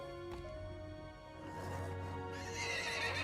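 Budweiser horses whinny and neigh amid a steady background rumble, with hooves clip-clopping as the sound builds louder toward the end; no talk.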